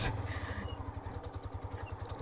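A motorcycle idles while being turned around on a rough village road, its engine thudding in a quick, even pulse, close and moderately quiet.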